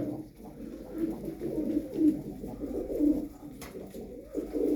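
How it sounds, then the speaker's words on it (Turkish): Pigeons coo in overlapping, soft rolling calls, several birds murmuring together at close range with a steady low throaty rhythm. "On bir tane kuş var arkadaşlar."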